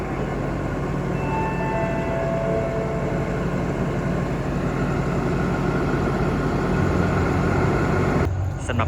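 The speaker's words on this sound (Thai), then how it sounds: "ขณะนี้ขบวนรถด่วนที่ 84กำลังจะนำขบวนเข้าสู่สถานีสุราษฎร์ธานีในชานชลาที่ 1" Express train 84 (Trang to Bangkok), hauled by a GEK locomotive, pulls into platform 1 at Surat Thani station. A loud, steady rumble carries thin high squealing tones early on and cuts off abruptly at the end.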